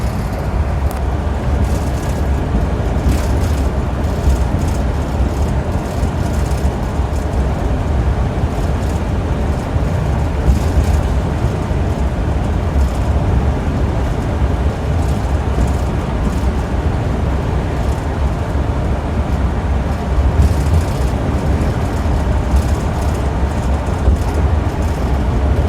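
Inside a moving Sound Transit 2008 MCI D4500 coach bus #9731, a steady low engine drone and road rumble run continuously, loud and close, with faint rattles and no talk.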